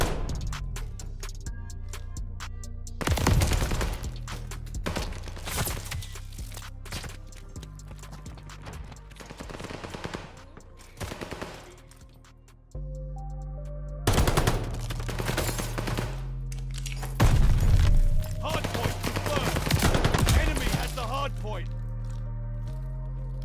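Gunfire at a hardpoint in the Call of Duty: Vanguard video game comes in loud bursts mixed with music and game effects, with quieter stretches between the heavy volleys.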